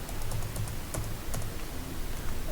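Quick, light clicking of keys on a computer keyboard, a close and steady run of irregular taps with no pauses over a couple of seconds.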